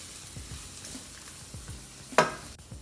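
Onion frying gently in olive oil and butter in a pan, a quiet, soft sizzle with faint scraping and stirring touches and one brief louder clatter near the end, no talking.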